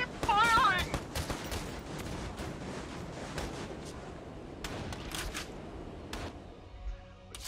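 Gunfire crackles through a Valkyria Chronicles 4 battle, dense bursts and scattered shots running steadily under an excited commentator's voice, fading slightly near the end.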